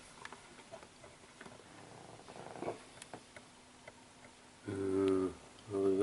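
Cats rest by a stove on a November day, their low rumbling purr audible as a couple of brief bursts near the end after soft rustling and handling noises from a camera being moved.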